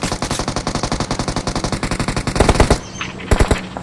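Rapid automatic gunfire rattles loudly and steadily in a battle royale video game for nearly three seconds, then breaks into a few short, separate bursts.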